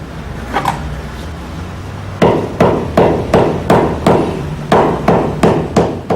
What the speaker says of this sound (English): Hammering the ball rounds the joints and sets the stitches.